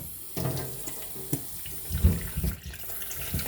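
Food, apparently tomatoes or fruit, is rinsed under cold running tap water at a kitchen sink, a steady close stream with splashes and handling bumps as it is turned under the flow.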